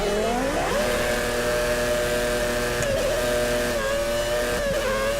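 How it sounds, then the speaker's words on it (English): A Formula 1 race car engine in the Formula 1 2013 video game, set at Monaco with a 1990s car, drones loudly and steadily with rising and falling revs and a few brief pitch swoops, with no talk. "Oh god, revving isn't doing anything."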